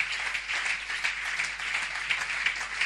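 A church congregation applauding to acclaim the Lord, steady dense clapping from a large crowd filling the room without pause.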